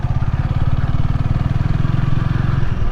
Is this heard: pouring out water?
no